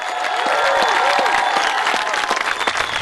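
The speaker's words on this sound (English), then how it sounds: "How about a big Panther cheer?" Students at a school program clap and cheer together in a loud, continuous burst of applause with scattered shouts throughout.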